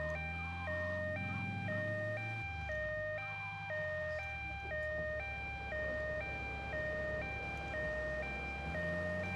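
Ambulance siren in GTA Vice City Stories on PS2, a steady two-tone wail alternating evenly and loudly throughout over low game rumble and engine noise.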